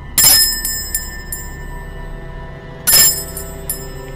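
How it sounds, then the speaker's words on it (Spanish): A small handheld bell, rung as a call to angels, gives two bright metallic rings about two and a half seconds apart, each with a few quick lighter jingles and a long ringing decay, close and loud, with no talking. "Y voy a utilizar un poquito la campana."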